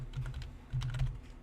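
Keys clack on a computer keyboard as a Linux server command is entered during an Ubuntu Apache setup, two short bursts of close, quick typing separated by a brief pause.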